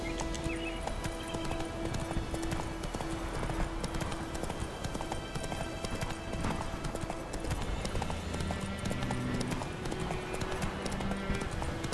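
Horse hooves clip-clop steadily at a riding pace in The Witcher 3, a constant rhythmic trot close by over a bed of game ambience and music, with occasional snorting.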